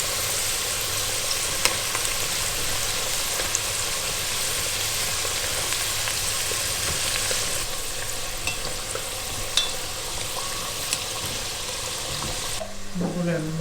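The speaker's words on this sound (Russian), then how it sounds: "Переворачиваем картошечку." Potatoes frying in a kazan for lamb kazan-kebab make a dense, steady sizzle with faint scraping as they are turned, the crackle staying close and constant before briefly quieting near the end.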